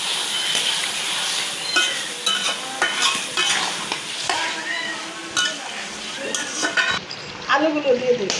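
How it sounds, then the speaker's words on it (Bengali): Pieces of free-range chicken go into spiced oil in a pan and are stirred, bringing bright sizzling and frying hiss along with clinks and scrapes of a utensil against the pan, close and loud. "এখন মাংসগুলো দিয়ে দিই।"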